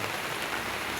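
Dense, steady heavy rain hissing and pattering on a surface, continuous and loud with no voices.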